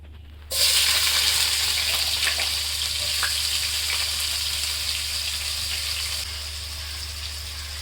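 Onions hit hot mustard oil in a pan and burst into a loud, steady sizzle and crackle that stays close and continuous, easing slightly toward the end, with no talking.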